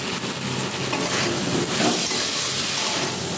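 Pointed gourd (potol) sautéing in a pan of well-fried spice paste, a steady close hiss and sizzle running unbroken throughout with no voices.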